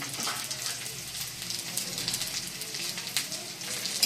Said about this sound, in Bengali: রসুনটা একটু নাড়াচাড়া করে ভেজে নেব